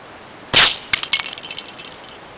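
A BB from a Powerline 15XT gun strikes a can outdoors with one sharp, loud crack, followed by a quick scatter of fainter rattling clinks.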